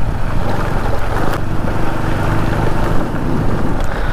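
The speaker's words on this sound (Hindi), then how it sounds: "ठीक तरह से बाइक नहीं चल रही है, वजरी वाली रोड है।" A motorcycle rides slowly along a rough gravel off-road forest track, producing a continuous low engine rumble mixed with crunching stones and wind buffeting the microphone, close and steady throughout.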